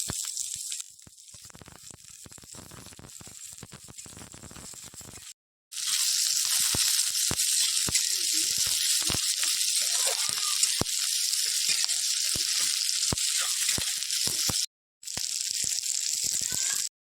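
Capsicum sizzling in a pan with chopped onion, ginger and green chilli for chilli paneer, a steady loud hiss that drops out briefly twice, with faint clatter and no talking.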